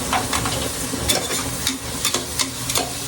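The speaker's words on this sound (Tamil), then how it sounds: "ஒரே ஒரு வாட்டி கிளறி தரவா?" Onions, green chillies and garam masala frying in a pan for homemade biryani, a loud close sizzle with repeated scraping stirs of a spoon, and no voices.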